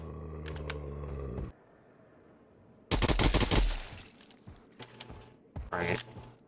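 Bursts of rapid gunfire in the zombie video game GiT GuD After Dark, a loud dense volley followed by scattered shots, with steady game music and ambience beforehand.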